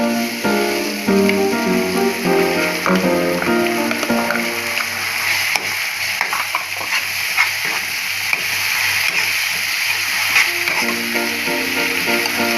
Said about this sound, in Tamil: அதுதான் இப்போ தயிரை ஊற்றிக்கலாம்.